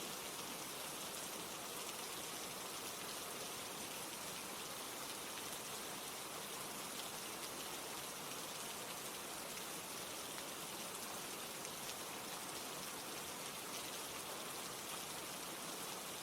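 Steady rain pours continuously, an even, soft hiss of drops with no pauses and no voices.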